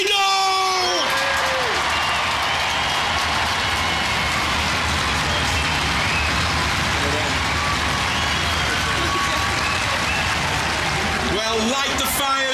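A studio crowd applauds, whoops and cheers loudly and steadily for the robot champion Tornado at the Robot Wars European Championship, with a voice briefly audible at the start and end.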